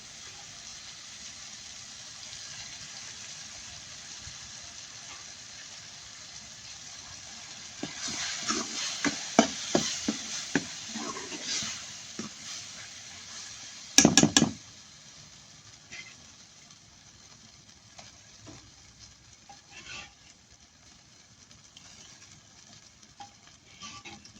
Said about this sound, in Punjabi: ਸਾਗ ਨੂੰ ਚੰਗੀ ਤਰ੍ਹਾਂ ਹੁਣ ਮਸਾਲੇ ਦੇ ਵਿੱਚ ਮਿਕਸ ਕਰ ਦਿੱਤਾ